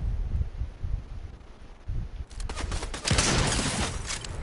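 Fortnite gunfire, a burst of rapid shots swelling loud over windy rustling background noise in the second half, after quieter muffled thumps.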